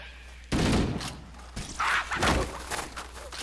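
A powerful pistol in Halo: Combat Evolved fires at Hunters, giving loud, sharp close shots with abrupt onsets, one around mid-clip, then further thumping impacts and in-game battle noise.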